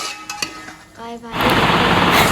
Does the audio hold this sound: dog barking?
no